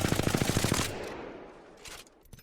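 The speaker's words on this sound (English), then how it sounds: "I'm gonna shoot at this wall and see what happens." Rapid automatic gunfire at a wall in Apex Legends with a light ammo weapon, a fast close burst of shots for about a second, then a faint tail and a few more scattered shots.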